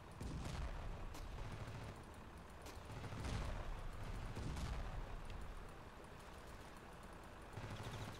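Repeated gunfire at an enemy tank in the video game RavenField, bursts of shots and booms in clusters at moderate distance, fairly quiet overall with no talk over it.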